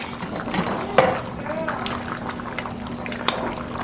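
Seafood gumbo with crab legs simmers in a pot, a soft continuous bubbling close by, broken by one sharp clank of metal near the start and a lighter tap later.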